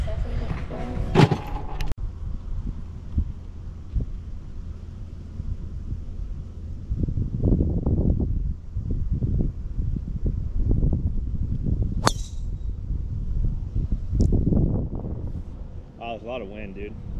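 Strong wind blowing across La Purisima Golf Course, a constant gusty roar buffeting the microphone throughout, with louder surges and brief sharper knocks.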